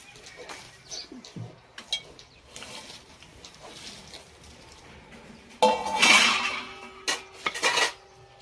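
Dishes and pots clink and clatter as they are stacked, quiet at first, then a louder burst of clanking near the end.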